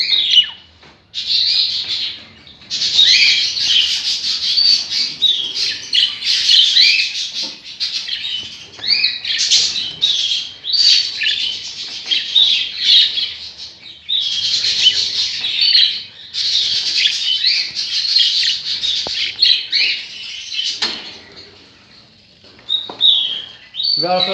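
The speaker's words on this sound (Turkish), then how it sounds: "Çünkü bu kuşlar benim özel kuşlarım." A dense, continuous chorus of budgerigars squawking and chirping, many calls overlapping at once and barely pausing.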